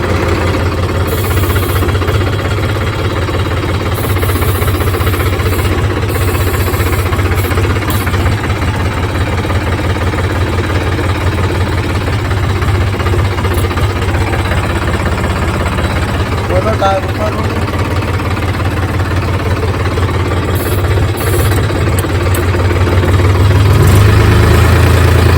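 Dozer-fitted tractor engine idling steadily at close range, a continuous low rumbling drone with vibration that holds evenly throughout.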